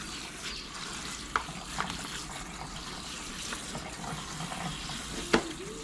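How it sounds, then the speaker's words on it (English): Salted onions rinsed under a cold kitchen tap: a steady close rush of running water with a few sharp clinks and knocks from handling in the sink. "We're actually going to rinse these off with some cold water."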